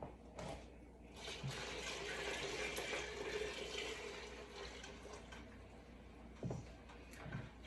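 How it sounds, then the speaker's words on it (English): Shrimp stock poured into a pot of Louisiana seafood gumbo, a steady, fairly quiet liquid splash and trickle that runs for several seconds, with a few soft clinks near the start and the end. "now we're gonna go ahead and add in the shrimp stock"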